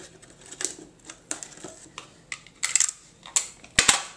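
Regular household tape is pulled off the roll and pressed along the edges of a homemade fruit fly trap, giving a run of crisp crackling rips and sticky taps at an uneven rhythm.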